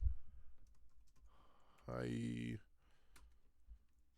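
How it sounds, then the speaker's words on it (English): Quick keys tapped on a computer keyboard, a few faint clicks around a short loud electronic tone in the middle. "I'm going to type hi."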